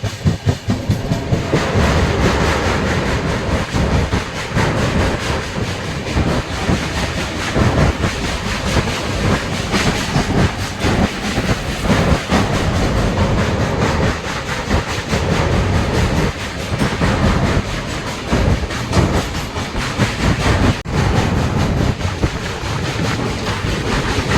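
The 19260 Kochuveli Express, running from Bhavnagar to Ahmedabad, travels along the rails with a steady loud rumble, clattering wheels and wind buffeting throughout.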